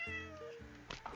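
A cat in the Minecraft video game gives a single clear, close meow lasting about a second.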